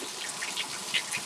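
Water runs from a Moen tub and shower faucet fitted with a new 1222 cartridge, a faint, steady, hissing flow lasting just over a second.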